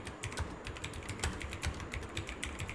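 Steady run of keystrokes on a computer keyboard while formatting text in a LaTeX document, a quick, even patter of soft clicks at close range with no talking.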